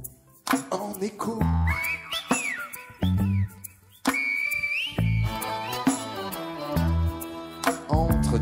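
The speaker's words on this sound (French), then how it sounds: "Sur l'île de la Gomera, on entend El Silbo" Whistled Silbo language of La Gomera in the Canary Islands, a run of sharp, gliding whistled phrases with rising and falling pitch set against a musical backing, clear and prominent throughout.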